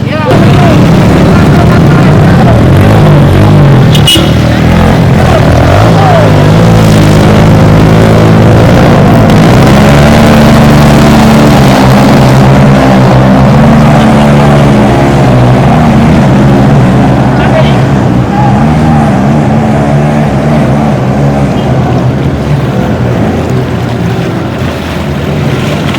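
Motorbikes with large engines ride through flood water on a flooded street in Sintang, a constant loud rumble and splashing roar that runs the whole time, with people calling out over it.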